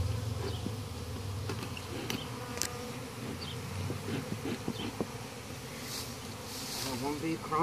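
Honey bees buzzing thickly and continuously at close range during a beehive removal in Harlingen, Texas, a steady insect drone with occasional louder passes near the ear.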